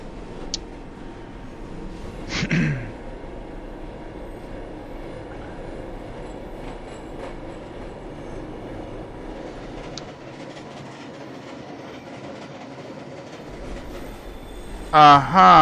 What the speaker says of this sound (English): This is not a slow train.